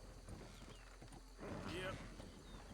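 In Red Dead Redemption 2, a horse walks with soft, faint clip-clop hooves under a low ambient background, and a voice talks over it.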